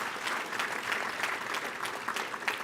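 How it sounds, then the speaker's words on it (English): Guests at a school athletic hall of fame dinner and induction gala applaud a title sponsor, a brief burst of many hands clapping in a lively, even patter at moderate volume. "Let's give them a huge round of applause for being our title sponsor."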